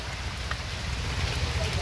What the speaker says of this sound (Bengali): গাইস আবার বৃষ্টি চলে আসছে